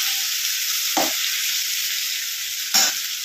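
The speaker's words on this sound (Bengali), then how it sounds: "আলু ভাজা।" Potatoes frying in oil in a pan, a bright steady sizzle heard close up, broken twice by short scraping stirs of a spatula, with no talking.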